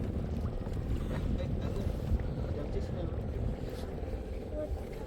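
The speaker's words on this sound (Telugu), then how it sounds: "ఎంతమంది పూజ, ఎంతమంది వెళ్తున్నారు చూడు బోట్లు." Motor boats cruise along a wide river, giving a continuous low engine drone mixed with wind while people chatter nearby.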